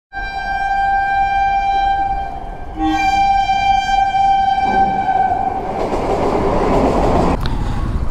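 A train rolls past a closed railway level crossing, sounding a long, loud horn with sustained tones, followed by rising rumble and rushing noise of the cars as it draws close.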